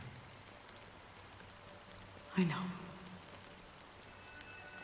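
Steady rain falls in the Star Rail video game, a soft continuous patter throughout, with a brief spoken line from a voice partway through.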